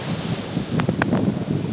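Ocean waves at sea off Cape Cod at 5:30 in the morning after rain, a steady broad wash of surf mixed with wind rumble, with a few faint brief knocks partway through.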